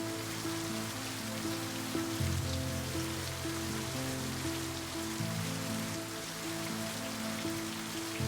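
Steady rain falls on the grounds of a French château during a storm, a continuous patter on surfaces under a low humming background tone.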